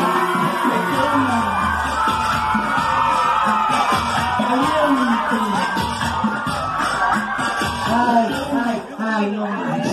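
A crowd of children at a birthday party with a clown cheers, whoops and shouts continuously, with loud overlapping voices close by and clapping mixed into the noise.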